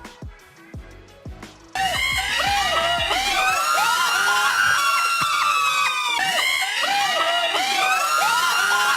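Children cheer and scream for a performer, a loud excited crowd of young voices erupting suddenly after a few quieter sounds and sustaining shrill whoops to the end.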